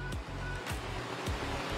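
Water splashes and rushes steadily in the large public fountain at Union Terminal, Cincinnati Museum Center, a close, continuous churning with a few brief surging bursts.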